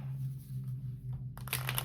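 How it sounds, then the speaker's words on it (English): A deck of cards riffle shuffled, a short crisp fluttering burst near the end over a steady low hum, close and fairly quiet. "I'm going to do another shuffle, ruffle shuffle, and then cut the deck."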